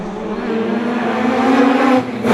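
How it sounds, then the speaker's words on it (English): Mazda RX-7 rotary race car in the Pre-85 Classic JDM class lapping the Waimate street circuit, a loud, continuous rotary engine drone that holds steady and then climbs slightly in pitch near the end. "Bert Murray in his Mazda RX-7 competing in the Pre-85 Classic JDM class."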